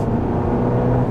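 The engine of a 2023 GMC Canyon AT4 pickup drones low and steady from inside the cab while driving, a smooth continuous rumble with no talking over it.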